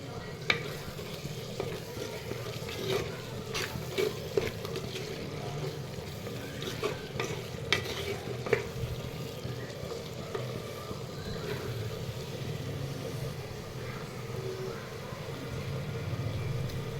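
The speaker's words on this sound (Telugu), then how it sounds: "కలుపుతూ ఉండాలి. కుండలో పదే అడుగంటుతుంది." Eggplant, potato and tomato curry is stirred in a pot, with a continuous low sizzle and bubbling under repeated scraping and clinking of the spoon against the pot sides, close and steady.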